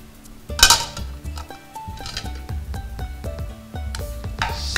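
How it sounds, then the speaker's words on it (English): A Spanish omelette is slid from a pan onto a plate and turned back, producing several close clinks and scrapes of metal pan against plate and utensils, with no talking. "you need to slide it in a plate, turn it around, put it back."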